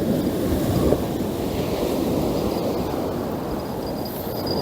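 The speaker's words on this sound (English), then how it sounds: "That wind's blowing off my back" Wind gusting across the seashore at Cushendun during a fishing outing, a steady, loud roar buffeting the microphone, with surf washing underneath throughout.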